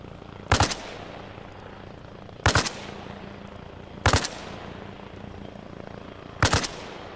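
A big mounted gun in Arma Reforger fires four short bursts at roughly even gaps, each one loud and punchy with a quick decaying tail, over a steady low background rumble.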